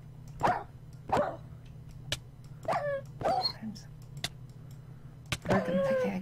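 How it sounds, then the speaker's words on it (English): A dog in a Minecraft-style survival video game barks a few times in short separate bursts, with yips and a brief whimper, as a player talks over and between them. "Dog!"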